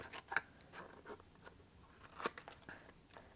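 Scissors roughly trimming card stock for handmade cards, a few quiet crisp snips and paper crunches up close, with two sharper cuts standing out.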